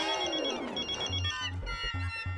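A mobile phone rings with an electronic ringtone melody, a boss calling, sustained tonal notes followed by a repeating low rhythmic pulse, fairly quiet indoors.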